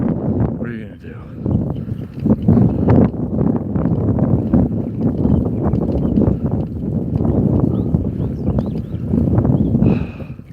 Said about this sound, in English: Now it's windy going this way